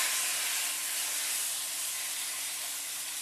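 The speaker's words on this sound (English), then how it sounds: "we're going to take the meat and we're going to sear it on both sides" Pot roast meat sears in a hot pan, giving a steady, bright hiss of sizzling fat that carries evenly and loudly from start to finish with no talking over it.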